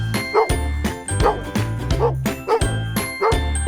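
A dog barking in short repeated bow-wow bursts, about seven in a steady rhythm, clear and close over light jingling tones.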